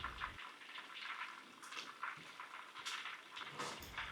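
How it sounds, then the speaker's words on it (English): Meatballs fry in hot oil for Chinese lion's head meatballs, a continuous bright sizzle and crackle with bursts of spitting, close and fairly quiet, no voices. "very carefully dropping that into the oil one by one"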